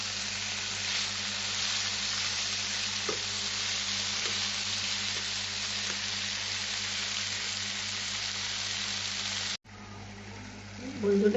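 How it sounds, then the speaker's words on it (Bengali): Stuffed pointed gourds (dorma) sizzle steadily in a frying pan as they are lightly stirred, with a few soft scrapes. The constant close frying hiss runs almost unbroken until a brief cut near the end. "এটা হালকা একটু নেড়ে চেড়ে তারপরে ঢাকা দিয়ে রাখবো।"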